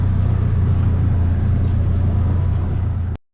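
A Polaris Ranger 1000 utility vehicle drives along with a steady low engine rumble and drivetrain drone, close and continuous before cutting off abruptly.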